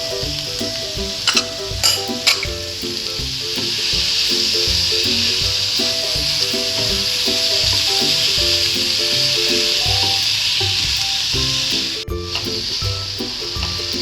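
Chicken seasoned with black pepper and salt sizzles steadily in a pan, a dense, continuous hiss that swells and holds for several seconds, with a few faint clinks near the start and end.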